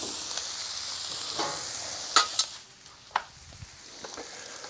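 Cabbage and shrimp frying on a Blackstone griddle, a steady close hiss of sizzling with a few sharp scrapes and clinks of a spatula stirring the food, no talk.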